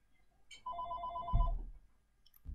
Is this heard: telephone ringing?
yes